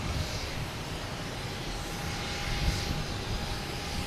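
A United Airlines Boeing 737 MAX 9 arriving from LAX at Boston Logan Airport makes a steady jet engine roar with a faint whining tone running through it. The sound is moderately loud and continuous, with no talking.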